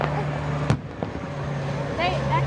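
Fireworks at a show in Chillicothe, Ohio, thump and crack with one sharp burst and a softer pop trailing off into echo, while people nearby talk and exclaim over the rumble.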